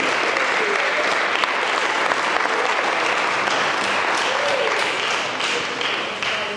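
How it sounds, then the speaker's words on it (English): Sustained applause from a large church congregation at an evening service, dense steady clapping that fills the space and holds at a constant level before tapering slightly at the end. "let's give Lord one more hand clap praise if you would"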